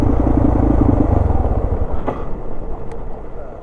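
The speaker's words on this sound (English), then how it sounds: "some dual sport riders up here" Dual sport motorcycles ride by on a forest trail, their engines loud and close for the first couple of seconds, then fading into a rougher, quieter rumble as they pass.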